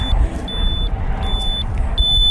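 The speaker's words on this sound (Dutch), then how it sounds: "Het alarm gaat af." An alarm goes off with a thin, steady high-pitched tone and short repeated beeps over a low rumbling background, without speech.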